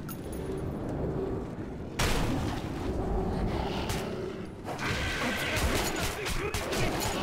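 Gunfire in the shooter Metro 2033 Redux, with bursts of shots and crashing impacts in a tunnel fight, loud and continuous, with sharp onsets around the middle and again later.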